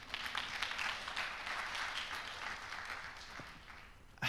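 Audience applause at a tech meetup, a dense wash of many hands clapping at moderate distance, steady for several seconds and fading slightly at the end.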